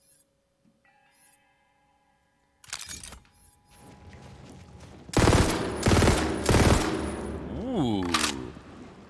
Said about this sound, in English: Burst fire. I like burst fire.